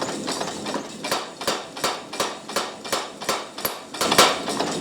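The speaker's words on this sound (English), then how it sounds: "We'll bring it to the power hammer and we'll just flatten it off a little" A power hammer pounds a heated rail spike in a fast, steady rhythm of about a dozen loud, sharp metallic blows, each followed by a brief ringing decay, close and alone.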